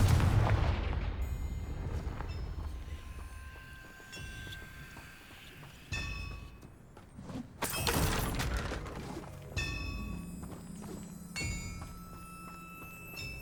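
Confringo blasting spells in the Hogwarts Legacy video game: repeated explosive booms and crackling impacts with shattering debris, mixed with game effects, rising and falling through the clip without talk.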